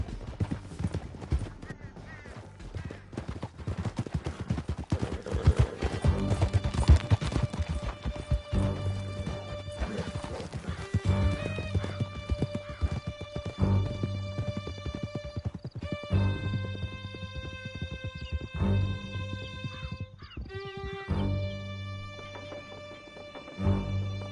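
Horses gallop in Red Dead Redemption 2, a steady rapid clip-clop of hooves with occasional whinnies and crashes, loud and continuous beneath game music and voices.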